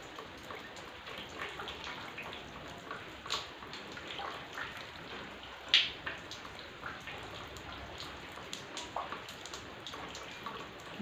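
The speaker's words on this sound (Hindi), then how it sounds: "बहुत वर्षा" Heavy rain pours around an old house, a constant soft hiss with scattered louder drips and splashes on surfaces, heard from close by and fairly quiet overall, with no talking.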